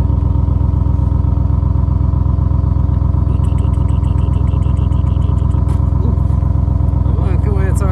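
A deep, steady Audi RS6 Avant engine burble idling close by, low and throaty, with a faint ticking rattle joining partway through.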